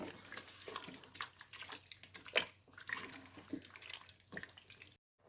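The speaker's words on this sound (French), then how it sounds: "Et je viens ajouter mon bouillon. Donc mon eau avec le bouillon de volaille." Water mixed with chicken broth poured into a Cookeo multicooker for a veal blanquette, a soft irregular splashing and trickling close by, ending with a brief silence.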